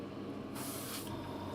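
An airbrush sprays paint along a model aircraft fuselage in one short, even hiss lasting about half a second over a low steady background hum.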